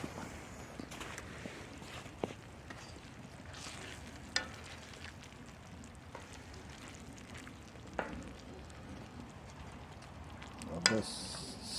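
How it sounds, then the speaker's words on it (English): Bandido stew with potatoes simmers in a pot at a winter campsite, giving a faint, steady low bubbling with a few soft clinks and knocks scattered through. "Our Bandido stew is cooking up just fine."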